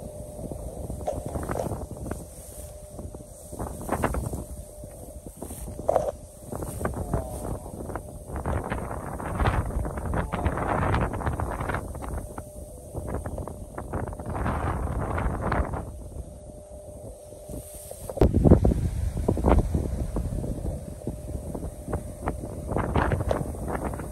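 Strong gusts of wind buffet and roar across open barley and mustard fields in Romania, rising and falling in long surges, with rumbling blasts hitting the microphone.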